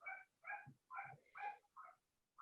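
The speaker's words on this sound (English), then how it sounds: "I apologize for the dog barking" A dog barks five or six times in a slow, regular series, each bark fairly faint and distant, heard indoors during an online meeting.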